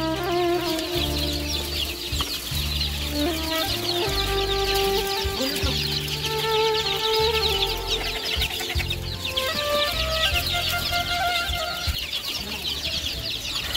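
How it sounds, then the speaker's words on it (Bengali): Chickens cluck and squawk busily at close range as the birds are carried into a newly built room, with constant overlapping calls and occasional louder cries over a steady background. "এরকম করে সবগুলা মুরগি আনলাম তো নতুন ঘরে"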